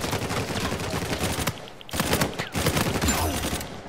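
Rapid automatic gunfire in Uncharted 4 survival mode, dense bursts of close shots rattling in quick succession with a short pause, then more sustained firing.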